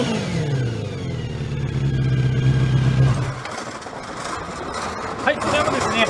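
A Kawasaki Zephyr χ motorcycle engine with a Moriwaki collector exhaust runs loud and close with a deep, throaty exhaust note, idling steadily before dropping off; a brief clack near the end.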